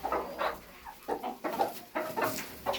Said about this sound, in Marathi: ही कोंबडी अंडं घालायला बसली, ती पण बसली अंडं घालायला.